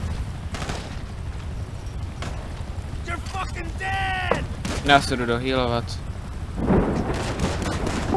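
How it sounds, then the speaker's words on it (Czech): Rockets and gunfire in the video game GTA V during a base defence, with dull booming blasts and sharp shots scattered through the scene, while someone talks over the action. "ona ještě střílí rakety."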